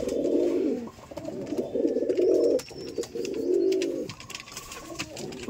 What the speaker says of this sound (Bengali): একদম সেই আমার পছন্দের কবুতর